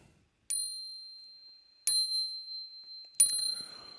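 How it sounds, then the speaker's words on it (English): A summoning bell at a wizard's hut is struck three times at spaced intervals, each bright, clear ding ringing out and slowly decaying, alone in a quiet setting. "Let me ring the bell of summoning and see if the wizard is about."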